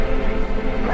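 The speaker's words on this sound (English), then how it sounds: "These dogs are deadly." Dogs in The Witcher video game letting out a brief burst of barking and yelping over a dense game soundscape, loud and close.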